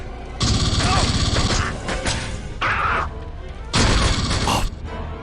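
Gunfire in Aliens vs Predator 2 (2001): bursts of loud rapid weapon fire in two or three long volleys, with crashing impacts and mechanical clatter in the gaps.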